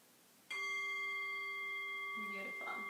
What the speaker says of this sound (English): When you hear the bell, you know that the 3 minutes has begun.